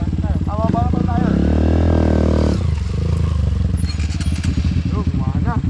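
A motorcycle engine revs loudly and close by, with clattering and people talking over it.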